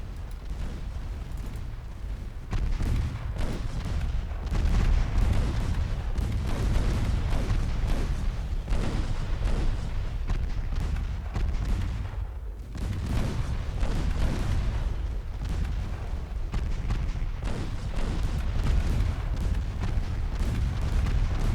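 Naval guns, including 3-inch and 5-inch guns, fire in a 1963 China campaign in Ultimate Admiral Dreadnoughts: a continuous barrage of deep booms and blasts, rolling one over another with hardly a pause.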